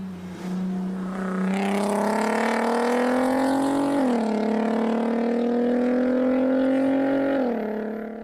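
Car engine played back from a recording, a steady tonal drone that climbs in pitch as it revs, with two brief dips like gear shifts, loud and continuous.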